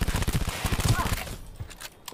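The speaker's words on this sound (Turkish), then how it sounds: "Ne güzel vuruyor silahıyla." Rapid bursts of gunfire in Cyberpunk 2077 crackle through the opening second, fired in a gang-run district of small run-down houses. The shots come in a quick repeating rhythm, then fade into quieter game ambience.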